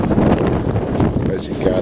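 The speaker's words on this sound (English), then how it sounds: "Sorry about the wind, guys." Loud wind buffets the microphone in rough, rumbling gusts, and a voice can be heard talking underneath.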